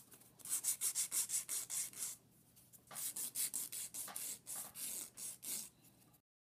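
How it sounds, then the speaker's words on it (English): A nail file rubs across the top of an acrylic nail in quick rhythmic strokes, a close, scratchy rasping in two bursts separated by a brief pause, with no talking. "I'm going to grab the fine file to medium file and I'm just going to sand the top of it"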